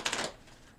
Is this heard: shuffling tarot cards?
yes